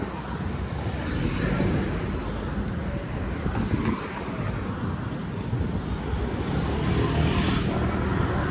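Steady, dense roar of street traffic in Phuket, Thailand, with passing vehicles blending into a continuous wash and heavy wind buffeting the microphone throughout.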